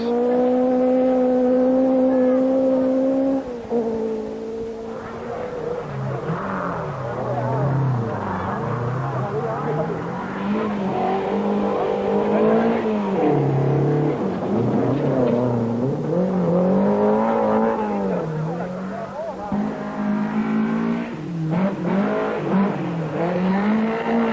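Saab and Volvo rally cars racing at the 1973 Jyskälä rally in Finland, engines droning and revving up and down continuously with shifting pitch, loud and sustained.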